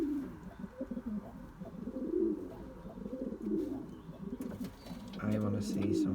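A pigeon cock coos to a hen by the nest, low soft rolling coos repeating through the stretch, fairly quiet and close, with faint background noise.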